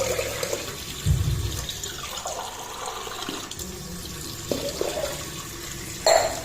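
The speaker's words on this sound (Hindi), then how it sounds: "3 गिलास पानी डाल देंगे। ये थोड़ा टाइट हो जाता है तो आज 4 गिलास डाल के देखते हैं।" Water poured from glasses into a cooking pot in a home kitchen, heard as a few short splashing pours separated by quieter gaps with soft handling noise, no talking.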